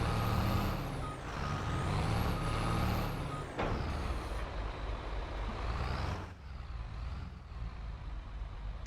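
A heavy truck with a manual gearbox in Farming Simulator 22 drones steadily up close, with sharp air-brake hisses cutting in twice and faint reversing beeps under the engine.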